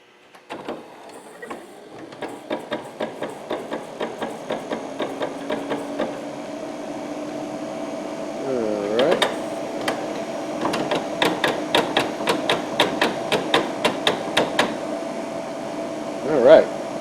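Pop-up headlamp motor on a C4 Corvette, with a faulty plastic gear, whirring and grinding with a rapid train of clicking pops. The sound rises in tone near the middle, then resumes clicking, close and moderately loud.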